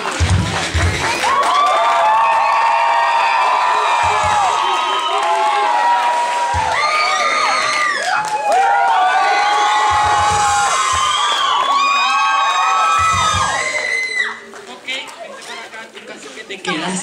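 A crowd at a women-versus-men audience contest cheers, shouts and claps in long loud bursts, with many voices whooping together. The noise holds for most of the stretch, then drops away near the end.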